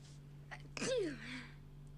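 A single sharp sneeze, close and sudden, with a quick breathy intake just before it, followed by a fading tail over a low steady hum.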